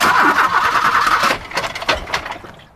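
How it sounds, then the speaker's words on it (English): A car engine cranks repeatedly and fails to catch, a loud grinding churn that breaks off into sputtering bursts and then fades out. "It's no good. I can't start the engine."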